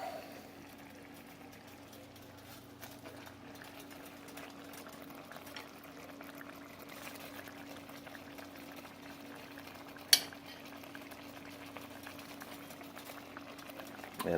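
Liquid in a pan holding rabbit for gluten-free hasenpfeffer bubbles softly and continuously at a low level, with a steady faint hum beneath and one sharp click partway through.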